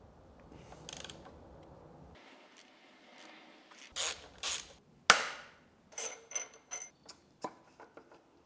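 Ratchet clicks and metallic tool clatter while Vanos bolts are undone on a BMW E92 M3 V8 engine, with short bursts of ratcheting and sharp knocks separated by quiet gaps, close and fairly faint.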